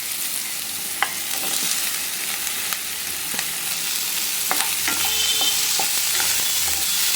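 Tomatoes sizzle and fry in a pan with onion and green chilli, a steady crackling hiss broken by scattered clicks and scrapes of stirring, close up with no talk.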